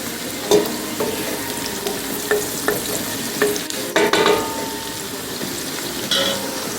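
A spoon scrapes and stirs Jamaican curry chicken in a pot, with a soft continuous sizzle and intermittent clinks and knocks against the pot, close and fairly loud.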